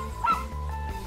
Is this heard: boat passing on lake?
no